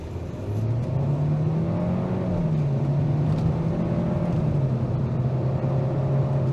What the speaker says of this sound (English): You can hear this engine working, but it's not horrible.